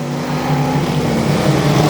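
Big van bangers race around an oval raceway, their engines giving a steady, loud, continuous drone with a strong low hum and no talk over it.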